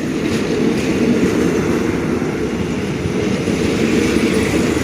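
A crowded holiday passenger express train, Rapid 167, stopped at Ratchaburi station in Thailand, fills the air with a constant loud rumbling drone that holds steady throughout.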